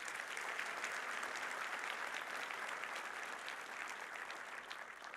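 An audience at a medical college graduation ceremony in Johannesburg claps steadily, a dense, sustained wash of applause from a crowd that slowly tapers toward the end.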